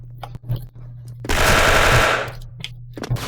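Fast burst of FAMAS rifle fire in the online shooter Special Force, a dense roughly one-second volley between quieter game sounds and footsteps.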